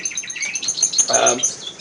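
Redpolls and siskins in breeding cages give quick, high twittering calls, several short chirps in a row close by, with faint movement in the background.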